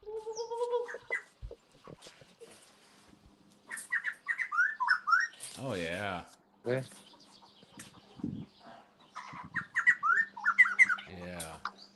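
Karulak birds in the jungle give loud squawking and whistling calls in repeated bursts, close and clear, mixed with brief chirps, while people talk quietly between the calls.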